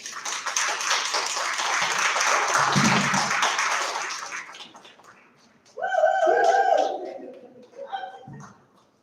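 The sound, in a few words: audience applause at conference session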